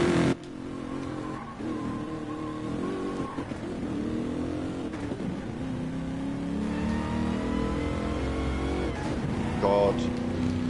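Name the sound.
car engine with racing transmission noises in video game Gran Turismo Sport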